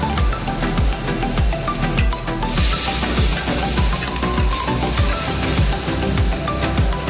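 Onions sizzle with spices in a wok for chow mein, a steady loud frying hiss broken by rhythmic scraping taps of a spatula stirring the pan, with no talk.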